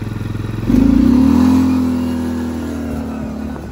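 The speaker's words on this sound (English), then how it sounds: "I'm gonna try to take off here in low gear and see what it feels like." A Linhai 550 ATV pulls away in low gear, its engine rising sharply into a loud, steady drone that holds and slowly eases, heard up close with no talking.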